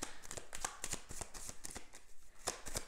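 Tarot cards are shuffled and handled, giving rapid close riffling snaps and soft slaps in an uneven rhythm, clear and alone without speech.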